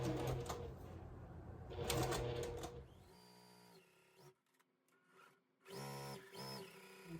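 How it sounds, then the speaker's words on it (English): A sewing machine stitches quilt fabric for a basket quilt block, its motor running in steady whirring bursts with short pauses between seams, close and fairly loud. "I need to sew a line on each side of the drawn line."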